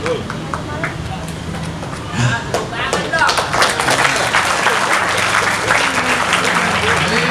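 A lecture audience at an Islamic boarding school bursts into applause partway through, rising from scattered claps under talk into a sustained, fairly loud round of clapping that continues to the end.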